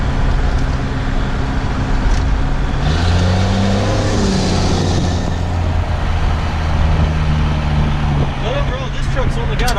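A Cummins diesel pickup truck engine with 149,000 miles drones loudly and close, its pitch rising and falling as it revs, with people talking over the rumble.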